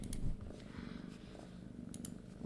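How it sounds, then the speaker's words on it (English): A cat purrs close by in a quiet room, a low continuous rumbling purr with faint clicks and breaths over it. "there goes the cat again"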